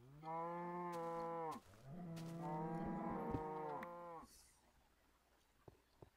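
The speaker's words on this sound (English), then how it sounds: "Come on, you stupid cows." Cows mooing in the video game Feed the Beast: two long, loud, drawn-out bellowing moos one after another, close by, then a quieter stretch with faint clicks and no speech.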